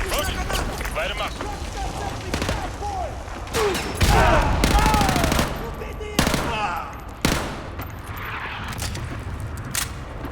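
Gunfire in the video game Modern Warfare 2, with bursts of automatic fire and sharp shots over a dense, busy battle soundscape. Voices talk throughout.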